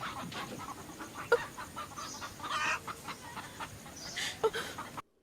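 Chickens cluck softly at a poor farmhouse among cows, scattered short calls rising over a faint outdoor background with a couple of sharper peeps.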